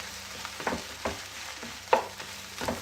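Egg fried rice cooking in a hot pan, with a soft steady sizzle beneath repeated spatula scrapes and taps, one sharper clink standing out, all close and moderately quiet.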